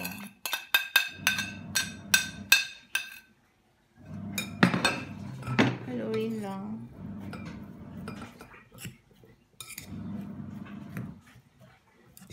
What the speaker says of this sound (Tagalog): Halo-haloin lang po natin yan, yung mga nilagay natin sibuyas, bawang, at saka karot. Dyan po sa lutong giniling na baka.